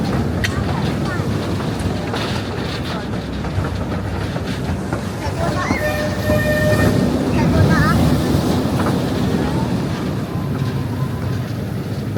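A ride train at Blackpool Pleasure Beach rumbles along steadily with rattling wheels and wind buffeting the microphone, while a person talks over the noise.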